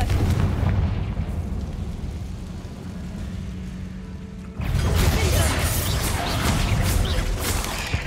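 Confringo fire spell detonating in the video game Hogwarts Legacy, a loud rumbling blast that surges in abruptly midway and roars on over the low game ambience to the end.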